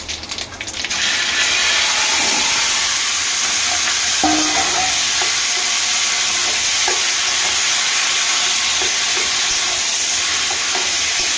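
Bay leaves, whole garam masala, dried red chillies and taro leaves fry in hot oil, a loud steady sizzle that starts abruptly and continues evenly, with occasional stirring clicks and no voices.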